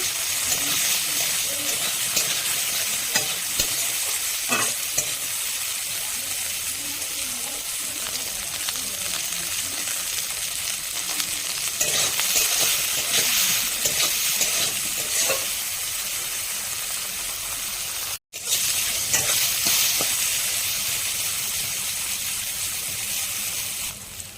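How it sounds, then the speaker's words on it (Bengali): Sliced bitter gourd fries with salt in hot oil left over from frying fish, giving a steady, close sizzle with occasional stirring scrapes and one brief dropout near the end. "উচ্ছেটা একটু লবণ দিয়ে ভালো করে ভাজবো"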